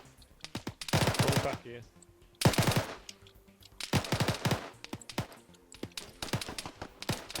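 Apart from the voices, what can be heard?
gunfire in the video game Arma 3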